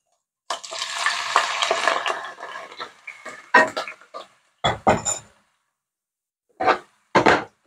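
Onions, celery and spinach dropped into a sauté pan for homemade chicken stock, an initial rush of frying hiss followed by several separate scraping and stirring bursts with pauses of silence between them.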